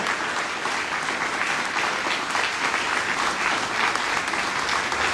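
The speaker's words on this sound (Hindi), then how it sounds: "जोरदार तालियां आईटी गर्ल्स कॉलेज के लिए" Loud, dense applause from a large audience at a college event honoring a girls' college team, a continuous even roar of clapping with no pause.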